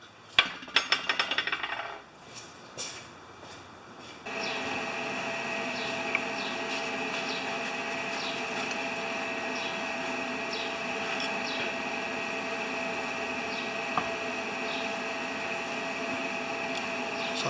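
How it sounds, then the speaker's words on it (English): Flux core welding on a John Deere STX38 lawn tractor muffler, heard from a few metres back: some clinks and knocks, then a steady continuous buzzing crackle of the arc that holds for over ten seconds. "We're going to just weld this around here and we'll see how it goes."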